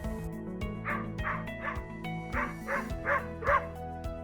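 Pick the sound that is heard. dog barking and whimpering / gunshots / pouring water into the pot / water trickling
dog barking and whimpering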